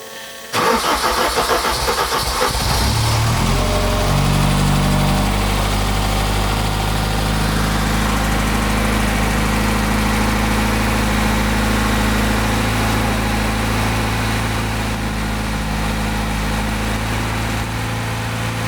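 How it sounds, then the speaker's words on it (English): A rare BMW M car, long forgotten, cranks briefly and fires up, then settles into a steady, loud, close idle that holds for the rest of the stretch without any voices. "I think we're going to hear it firing up."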